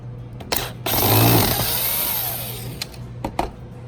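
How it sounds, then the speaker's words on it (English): A power screwdriver whirs while backing the circuit-board screws out of a model railway DCC solenoid. One loud, sustained whine is framed by short clicks and handling knocks, close up and with no voices. "Remove the two screws from the circuit board"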